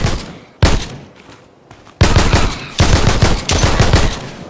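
Automatic gunfire in the Far Lands video game comes in loud, sharp bursts: a short volley, a pause, then several longer close rattling strings of shots.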